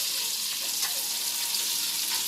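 Chicken pieces fry in hot oil, a dense continuous sizzle with faint scraping as a spatula turns them, close and steady.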